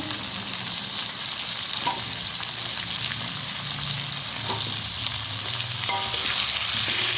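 Small round green eggplants fry in a pan with a steady, dense sizzle that runs unbroken throughout, close by and with only faint stirring clicks and no voices.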